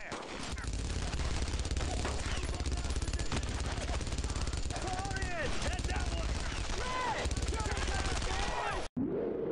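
Dense, continuous automatic gunfire from a World War II squad shooter, Brothers in Arms: Road to Hill 30, crackles loudly throughout with overlapping bursts, while a player's voice talks over it.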